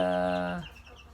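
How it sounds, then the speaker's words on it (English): Chicks in a chicken coop, sixteen days after hatching, give a loud sustained harmonic call lasting about half a second that then cuts off into quiet rustling and faint background noise. "I am in the chicken coop with the chicks."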